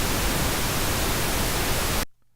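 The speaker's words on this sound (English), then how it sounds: "Now let's take a look at the pink noise and see where that's peaking out in the meter." Steady broadband pink noise, a loud, even hiss with a deeper, fuller tone than white noise, running unbroken for about two seconds before cutting off abruptly into near silence.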